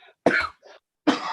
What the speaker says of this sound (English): excuse me, I have a cough that's kicking my posterior